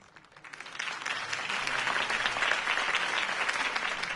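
A crowd applauds after Harvey Dent's campaign speech in the Batman Telltale game, the clapping swelling quickly from quiet to a full, steady roar that holds to the end.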